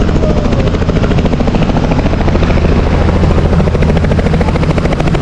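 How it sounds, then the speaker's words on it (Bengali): Close, loud helicopter with rapid rhythmic rotor thumping over a heavy engine drone, unbroken for several seconds, no voices, in Bogura, Bangladesh. "চলে আসলো হেলিকপ্টার"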